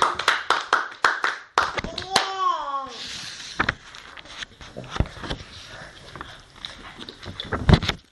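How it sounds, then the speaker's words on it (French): A church congregation claps in a lively rhythm at the start, then a rising vocal whoop cuts in, followed by scattered claps and taps with voices through the rest. "Applaudissez."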